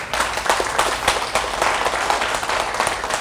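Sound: enthusiastic clapping by the audience

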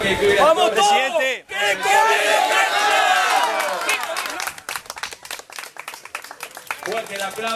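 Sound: crowd applauding at a horse race

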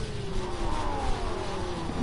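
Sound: car engine revving in video game Rocket League

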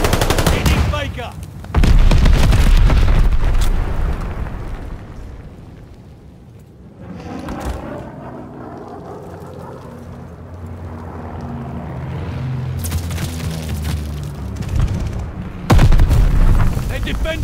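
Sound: bombing run explosions in video game Call of Duty: Vanguard

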